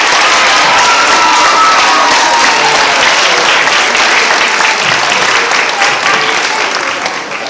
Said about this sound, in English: Big round of applause for our pre-K.